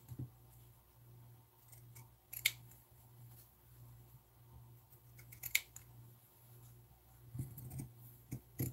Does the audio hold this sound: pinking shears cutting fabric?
yes